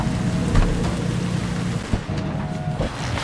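Steady heavy rain pours over a low rumble of thunder in the video game Cyberpunk 2077, with a couple of brief crackles standing out in the continuous wash.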